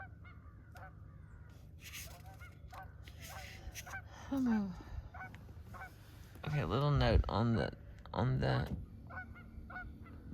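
Canada goose honks loudly and close in several rough bursts after a quieter stretch, with brief speech early on and faint background sound between.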